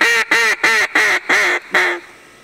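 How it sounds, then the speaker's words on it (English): A duck call is blown in six quick, evenly spaced quacks, loud and close, with a nasal, buzzing tone and nothing else heard. "when you blow a duck call right, you say, well, it's more controlled breathing."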